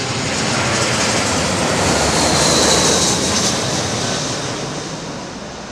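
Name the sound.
airplane landing at London Heathrow Airport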